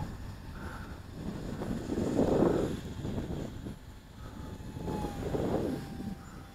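Gusty wind buffets the microphone outdoors during an RC SU35 airplane flight test, a steady rumbling roar that swells and fades in two broad gusts with no talk.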